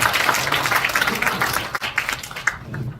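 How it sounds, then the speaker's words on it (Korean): At a Korea–Denmark peace education forum in Pocheon, an audience claps to welcome speaker Peter Bendix; the applause is fairly quiet and uneven and thins out near the end. "피터 벤딕스 선생님께서 다시 한번 힘찬 박수로 맞이해 주시기 바랍니다"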